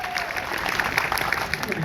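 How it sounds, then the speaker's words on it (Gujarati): An audience gives dense, steady applause to welcome Bhumi, chief guest at a Gujarati film event. A crowd of many hands claps continuously for about two seconds. "તો એકવાર એના માટે જોરદાર તાળી"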